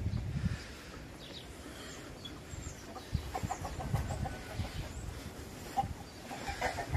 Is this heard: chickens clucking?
yes